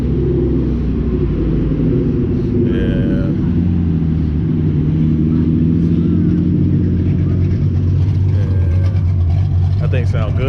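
A Nissan Skyline at a midnight car meet rumbles and revs loudly up close, its engine note choppy and deep, with people talking nearby.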